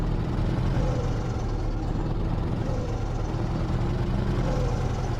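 A V8 truck engine runs steadily in Universal Truck Simulator, a low, even rumble that holds constant throughout with no voices over it.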